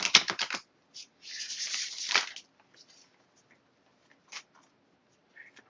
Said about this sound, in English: Hadn't shuffled these yet, so please give me a moment.